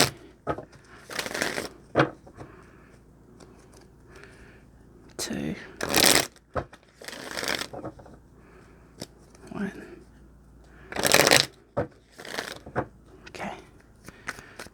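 Tarot cards shuffled in bursts of dry riffling and flicking, several short bouts spread through the stretch, close and fairly loud, with a person talking quietly in between.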